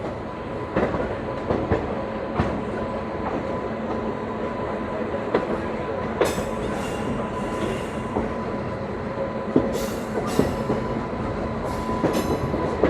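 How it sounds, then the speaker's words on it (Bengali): A Kolkata-Digha Special Express passenger train running on the rails, heard from on board as a loud steady rumble with scattered wheel clacks and metallic squeaks, no talking. "আমাদের ট্রেন এখন এসে পৌঁছেছে আন্দুলে।"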